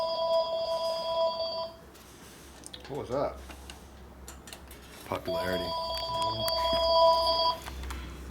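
A telephone rings in a motorcycle repair garage, two bursts of electronic trilling separated by a pause, moderately loud, with people talking between and over the rings.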